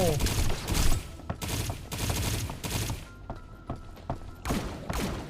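Rapid bursts of gunfire from the video game T3 Arena crackle in quick succession, loud and close, with short pauses between volleys.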